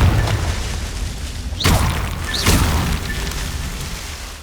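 Confringo spell explosions in Hogwarts Legacy, two loud booming blasts about a second apart over a dense rumbling game background.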